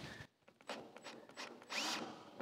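A power drill whirs in short bursts close by while drilling a hole in a metal tailgate frame, stopping and starting several times with brief gaps between pulses.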